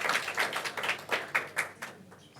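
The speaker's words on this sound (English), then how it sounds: "Give yourselves a round of applause." A conference audience at a developer summit in Singapore claps, a short burst of sparse, crisp handclaps that tapers off within a couple of seconds.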